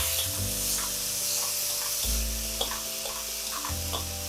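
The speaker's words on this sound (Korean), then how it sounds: "호박은 물이 생길 수 있으니까 강불에서 빨리 볶아주세요" Zucchini stir-frying quickly over high heat, a steady close sizzle with faint clinks of a utensil against the pan and a low hum running underneath.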